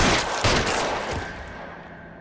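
Dense, rapid gunfire in a 1940s Los Angeles crime shootout from L.A. Noire, bursts of shots crackling close and loud, then tapering into echoing reverberation.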